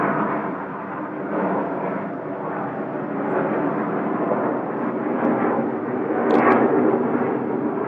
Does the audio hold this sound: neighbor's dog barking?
no